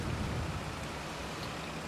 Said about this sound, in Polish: Pogoda nas nie rozpiesza, jest deszczowo.